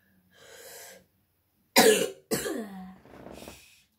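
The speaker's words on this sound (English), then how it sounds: "What a terrible cough." A person with a bad cold coughs: a soft breathy exhale, then two loud harsh coughs close together and a quieter wheezy breath after, near and alone.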